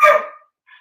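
A dog barks once, a single sharp, fairly close bark followed by a faint brief yip, heard alone without talk.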